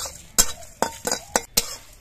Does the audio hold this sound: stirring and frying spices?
yes